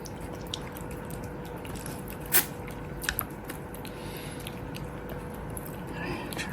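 A cat chewing and eating a shrimp, with a few soft wet bites and smacks at close range over steady background noise.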